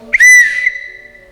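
A single sharp whistle blast, loud and close, piercing at the start and then trailing off into a thin fading tone, heard alone.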